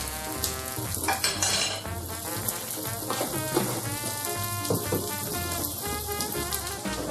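Garlic butter sizzles in a hot pan with asparagus, a close, steady crackle and spit, with faint tonal music playing underneath throughout.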